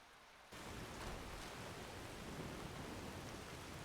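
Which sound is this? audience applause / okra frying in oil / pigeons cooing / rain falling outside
rain falling outside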